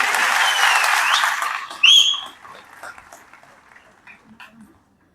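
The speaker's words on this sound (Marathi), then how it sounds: "वाजवा जोरात टाळ्या." An audience claps loudly at a speech on Annabhau Sathe's birth anniversary. The applause is dense for about two seconds, with a whistle in it, then quickly dies away to scattered faint sounds.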